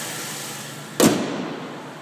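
The hood of a 2000 Ford Crown Victoria sedan slams shut once with a sharp, loud thud partway through. A steady engine idle runs underneath before and after.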